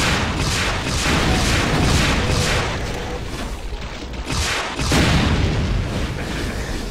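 Repeated rocket launcher blasts from the Brutal Doom 2 game, heavy booming explosions going off in rapid succession, loud and continuous with a dense rumbling roar and no talking.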